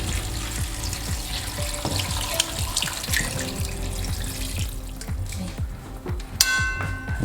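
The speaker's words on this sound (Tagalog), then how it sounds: "Tapos lagyan natin ng tubig." Water runs and splashes steadily into a cooking pot of seasoned pork belly for kare-kare, with a continuous pouring rush and some clinks of metal near the end.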